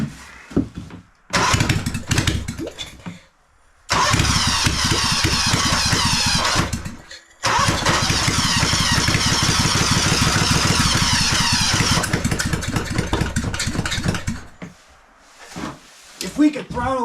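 A small salvaged engine sputters briefly, cuts out, then starts and runs in a fast, steady putter for several seconds at a time, stalling and restarting. It finally stops, and voices talk close by.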